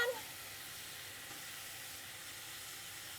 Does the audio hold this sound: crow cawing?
no